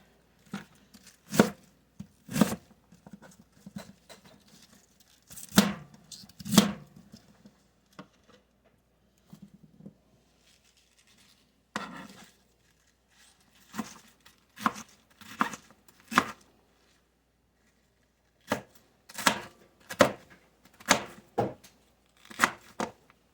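A knife chops through vegetables on a cutting board while the core is cut out for bacon slaw, sharp isolated thuds in small clusters separated by quiet pauses.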